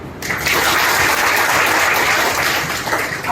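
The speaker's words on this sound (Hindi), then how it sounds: "तो मैं चाहती हूँ कि आप अपने लिए तालियां जरूर बजाएं" A crowd at an award ceremony honoring top-scoring Class 10 and 12 students applauds loudly and steadily, a dense, close wash of clapping that carries on through the whole stretch.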